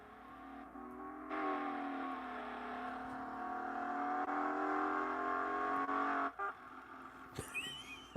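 A video game car that stalls and has to be revved to redline gives a steady, loud horn-like droning tone for about five seconds, then cuts off abruptly into quieter, uneven engine noise and a few sharp clicks.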